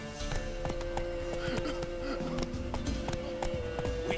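Geralt's horse Roach gallops in Witcher 3, hooves clip-clopping in a quick steady rhythm, moderately close, with a brief whinny amid game ambience.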